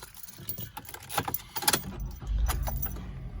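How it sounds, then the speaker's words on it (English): Keys jangle and clatter inside a Mazda2 1.5 automatic, followed by a short low rumble as the engine turns over and catches, quiet and close. "And let's start the car up."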